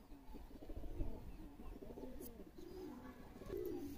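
Malwai pigeons softly cooing nearby in a loft, low rolling coos repeating over a faint background hum with no talking.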